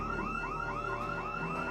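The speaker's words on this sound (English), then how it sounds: "He went back to the trailer park, but accidentally set off an alarm," A car alarm in the zombie survival game Project Zomboid wails on and on in a steady, looping rising sweep, loud and continuous with no voices.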